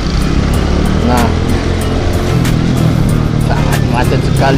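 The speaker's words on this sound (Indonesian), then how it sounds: "sangat macet sekali" Motorcycle crawling through a heavy traffic jam in Padang at dusk, a loud, steady engine and road rumble filling the whole stretch, with brief tonal wavers from nearby horns or voices.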